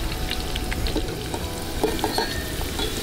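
Steady crackling sizzle of food frying in hot oil in a sloped pan at a caravan camp by a secluded cove, with occasional sharper pops, close and continuous, no talking.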